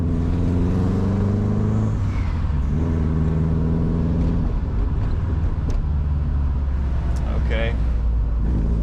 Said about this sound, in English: I've forgotten how light the car feels. Like with the acceleration.